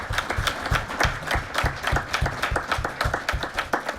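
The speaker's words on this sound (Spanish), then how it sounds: "les pido un fuerte aplauso para quienes están en cabina" Applause from a conference audience for the broadcast booth staff, a steady patter of many hands clapping at moderate distance, fairly even throughout with no voices on top.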